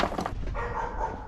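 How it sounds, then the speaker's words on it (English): A dog barks a few times nearby, short sharp yips over a steady low hum of background noise. "Who's that barking at me?"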